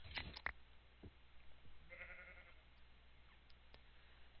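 Minecraft sheep bleat a few times, faint and short, with quiet game sounds in between.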